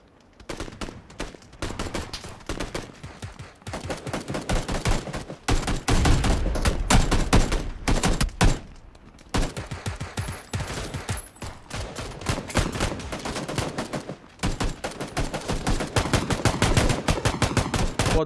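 Sustained gunfire from the battle royale game PUBG, with dense bursts of automatic and single shots crackling loudly and continuously across the stretch, pausing only briefly before volleys resume.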